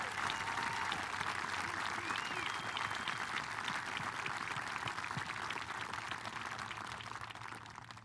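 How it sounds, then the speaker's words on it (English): An audience gives a long round of applause for the Corps Cadets at an Army and Navy Academy Veterans Day parade, dense steady clapping from a crowd that fades slightly toward the end. "join me in giving them a rousing round of applause"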